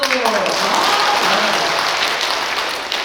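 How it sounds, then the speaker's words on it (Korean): Audience applause during an Advent lecture given by a nun, a thick, sustained burst of clapping from a roomful of people that fades slightly at the end, with voices mixed in at the start. "자 전체적으로 박수"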